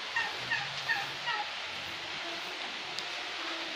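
A turkey gobbles in a few short bursts in the first second and a half at a rainforest spring resort in Cebu, fairly close, over steady rain-like background hiss.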